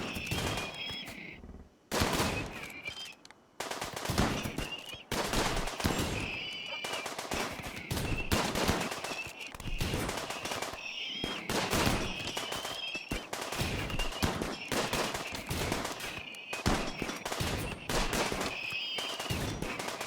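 Rapid bursts of gunfire in the colony-defence video game RimWorld, dense and continuous over the whole stretch with repeated volleys, close and loud, with no voices heard.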